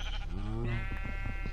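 Sheep bleating in the SurvivalCraft survival video game, a single drawn-out bleat with a wavering, rising tone heard close and clear over a steady low background hum.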